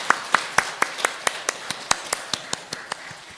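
A church congregation clapping during a Sunday service, heard as a slow, even rhythm of sharp unison claps, roughly three per second, fairly close and clear.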